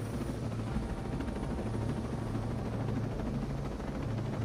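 A helicopter in Ghost Recon Breakpoint, a steady low rotor drone and engine rumble with a constant hum above it, continuous and moderately loud, with no talk.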